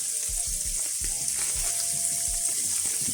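Asparagus seasoned with salt, pepper and lemon peel sizzling in a pan, a continuous close frying hiss with soft low pops and bubbling bursts throughout, and no voices.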